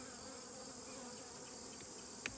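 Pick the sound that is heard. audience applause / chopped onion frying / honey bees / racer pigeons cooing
honey bees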